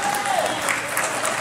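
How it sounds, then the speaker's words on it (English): A church congregation applauds after a Sunday testimony, a loud, dense and continuous spatter of many hands clapping, with a faint vocal tone briefly rising above it. "Let's give her a hand"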